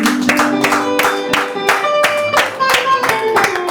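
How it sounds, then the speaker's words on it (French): A church congregation claps in praise of Jesus with steady, rhythmic, loud claps in a regular beat, while voices sing or call out over the clapping. "Clap for the Lord of the Lords."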